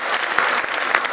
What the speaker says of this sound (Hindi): तालियां तो इस बात पे बजाना